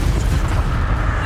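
Confringo fire spell explosion in the Hogwarts Legacy video game, a dense, continuous rumbling boom with heavy low-end energy that holds steady throughout, loud and close with no voices over it.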